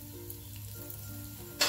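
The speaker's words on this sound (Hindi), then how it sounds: "अब इसके अंदर हम 1 टीस्पून जीरा डाल देंगे, थोड़ी सी हम हींग डाल देंगे" Cumin seeds and asafoetida hit hot mustard oil in a pan for potato sabzi, giving a steady soft sizzle that swells into a brighter burst of frying near the end.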